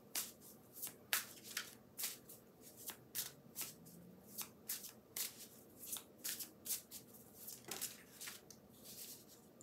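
Tarot cards are shuffled and drawn in a steady run of crisp riffling bursts, close and fairly quiet, repeating at a quick, even rhythm with light hand handling between them.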